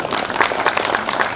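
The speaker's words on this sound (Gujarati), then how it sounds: "એમની માટે તાળી" A crowd at a Vaghela family temple inauguration festival claps for a donor, a short burst of dense, lively applause at even strength throughout.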